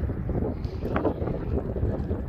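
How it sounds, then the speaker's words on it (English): Strong wind blows outdoors along a roadside near a small Dakota town, buffeting the microphone in a steady, loud rumble with low gusting roar throughout. "wind is kind of bad out here"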